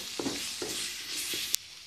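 Egg curry with cauliflower sizzling in a pan as ground roasted cumin and coriander are stirred in, a steady close hiss with a few soft scraping strokes and a sharp clink near the end.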